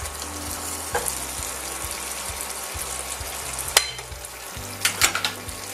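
Something crisping in a greased pan for a potato-topped rillettes parmentier, a steady close sizzle under low humming tones, punctuated by a few sharp clinks and scrapes of a utensil, with no voices.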